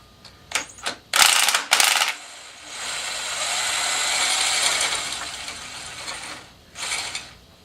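A ratchet wrench loosens a 14 mm bolt on a Honda CX500C motorcycle engine, with a few quick clicking bursts followed by a longer grinding ratchet run and one more short burst, up close.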